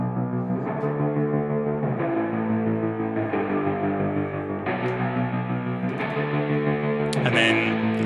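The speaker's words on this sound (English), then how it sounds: "So those intro guitars, which actually then also fill up the choruses, sound like this." Distorted pop punk power chord guitars in an Ableton Live production, played through a Guitar Rig preset with auto pan; sustained chords change every second or so in a dense, steady wall of sound.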